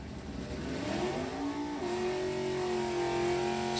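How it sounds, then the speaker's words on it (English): Factory Super Stock J drag racing hot rod engine revving steadily and loud, a sustained mid-pitched roar that climbs in pitch midway and holds, with no one talking over it. "Charlie Downing's factory Super Stock J hot rod."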